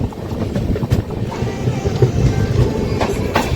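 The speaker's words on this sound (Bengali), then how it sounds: "দুই কামরূপ এক্সপ্রেসের ক্রসিং" Two Kamrup Express trains, up and down, crossing each other on an Indian railway line; a steady, loud rumble of passing coaches with wind buffeting, continuous throughout without a break.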